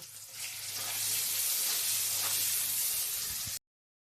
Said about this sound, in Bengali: হলুদ গুঁড়ো দিয়ে ভালো করে আমি আলুটাকে নাড়িয়ে চাড়িয়ে নেব